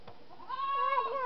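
A human voice imitates a goat's bleat, a single short wavering 'baa' that rises and holds, close and clear with no other sound around it.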